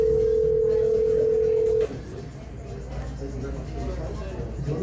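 A steady telephone dial tone hums from a phone handset for about two seconds during a phone call, then cuts off abruptly, leaving quiet room noise with a faint voice.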